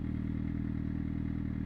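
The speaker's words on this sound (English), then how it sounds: "when you blip the throttle, when we blip it, at the same time, what we're going to be doing is kicking the gear down" A motorcycle engine idles with a steady low rumble and a faint clattering texture, close and continuous with no clear rev spike.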